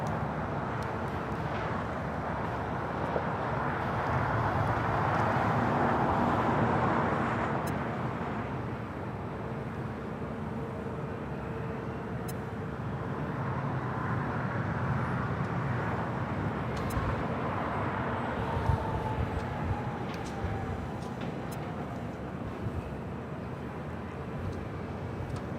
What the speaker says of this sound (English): American Airlines coming in from Miami, 777-300ER